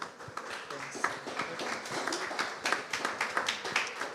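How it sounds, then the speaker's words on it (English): Scattered, moderately close clapping from a modest audience applauding panelists at a Web3 AI future-of-work event in Seoul, individual hand claps audible in an uneven patter. "can we have a round of applause for our panelists"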